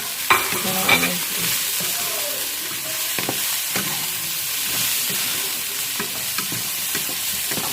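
Sausage sizzles steadily in a frying pan under a continuous hiss, while a utensil scrapes and stirs now and then at close range.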